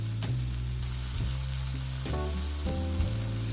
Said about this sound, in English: To a pan over medium heat, add the chicken thighs skin side down. Let them sear for about 5 minutes until golden and slightly crisp.